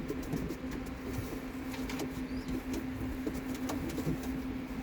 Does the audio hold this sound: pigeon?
yes